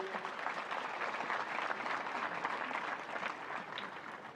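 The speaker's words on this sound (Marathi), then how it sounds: "आपण सगळेजण आपल्या या शिवम प्रतिष्ठानसाठी एकदा टाळ्या वाजवून त्यांना अभिनंदन करूया" An audience at a motivational speech applauds together, congratulating Shivam Pratishthan: dense, sustained clapping that fills the whole stretch at an even level, with faint crowd murmur beneath.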